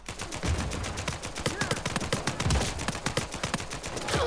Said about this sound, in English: Oh god, shots from the back.